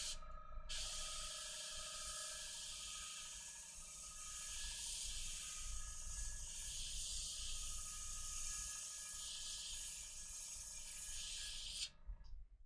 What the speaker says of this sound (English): And they're going to spray.